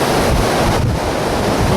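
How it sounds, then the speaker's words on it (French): Strong wind roaring into the microphone on an exposed mountain hike, a continuous loud, broadband rush with no pauses and no voices. "Je sais pas si vous entendez le vent, mais là ça souffle"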